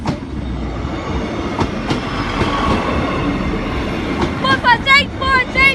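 A Class 156 diesel train departs past Sleaford East level crossing, rumbling and clattering steadily nearby, with squealing wheels rising near the end.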